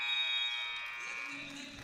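A loud, sustained electronic buzzer sounds at a girls' high school basketball game, a steady harmonic tone lasting nearly two seconds over crowd noise in the gym.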